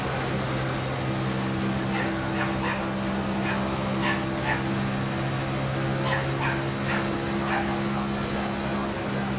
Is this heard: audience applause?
no